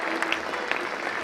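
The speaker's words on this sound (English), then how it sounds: "Let's give them a big round of applause." An audience at the Wales Millennium Centre, at a Global Music Maker event, claps in a brief, dense burst of applause filling the hall.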